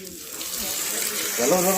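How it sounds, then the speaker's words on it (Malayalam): Water poured from a tap-like stream onto a potted plant, a steady close splashing flow that grows fuller and louder near the end, with a voice faintly present. "വെള്ളം ഒഴിക്കുക ഒരു ചെടിക്ക് ഇത്ര വെള്ളം പോരാ"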